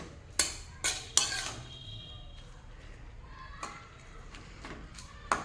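A utensil stirs spinach in a pan over a low flame for garlic spinach, giving a few sharp metallic clinks and scrapes spaced apart against a quiet, faint background.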